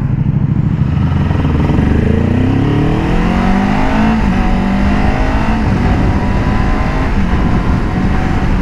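A Kawasaki Ninja 7 Hybrid motorcycle riding in sport mode, its engine droning loudly and steadily with rising revs as it accelerates, under heavy wind rush close to the rider.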